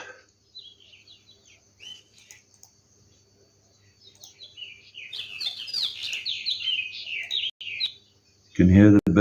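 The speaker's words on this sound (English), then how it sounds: "You can hear the birds probably." Birds chirp and trill in quick bursts in the early morning, fairly close and clear, with quiet pauses between, ending with a loud thump.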